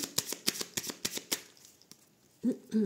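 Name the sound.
cutting a tarot card deck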